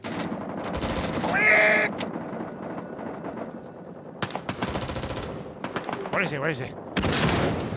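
Dense bursts of machine-gun and rifle fire in Rising Storm 2: Vietnam, loud and near, with sharp single shots and rattling volleys throughout, while voices shout urgently over the battle.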